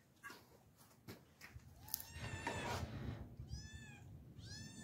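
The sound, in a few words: cat meowing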